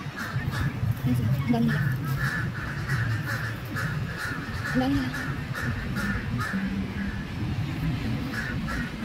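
Crows cawing in Bangkok, with many harsh calls repeated in a steady rhythm at moderate distance, heard under a person talking nearby.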